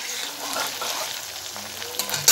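Onions frying with ginger-garlic paste in a pan while making ghugni, a steady soft sizzle running throughout at close range, with a sharper clatter right at the end.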